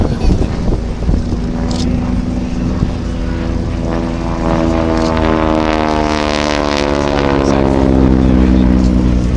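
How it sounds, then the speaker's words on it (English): Loud roar of a North American Harvard aircraft's 600-horsepower engine with direct-drive propeller, no gearbox, passing at an air show, with a rising and falling whine, the pitch sweeping down steadily, strong and close. "It's a direct drive propeller. There is no gearbox on this engine."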